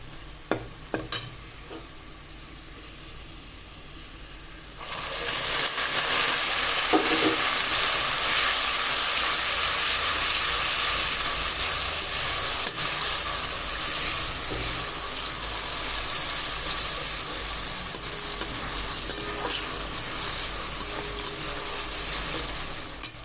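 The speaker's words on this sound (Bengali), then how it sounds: "আর এদিকে মাংস করবো বলে বসিয়ে দিয়েছি" Meat cooking in a pot on a home stove after whole garam masala and onions in oil: a sudden loud sizzle and steady frying hiss, with faint stirring clinks on top.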